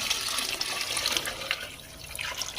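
A second bowl of water goes into a pot of rice, a loud, close, continuous splashing pour lasting a couple of seconds with no talk.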